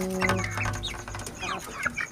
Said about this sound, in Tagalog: Mga manok ni Papa oh.